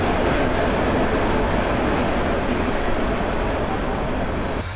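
A Nazirhat local train on the Chattogram line roars steadily at close range, a loud continuous rumble of wheels and carriage noise with no break and no voices.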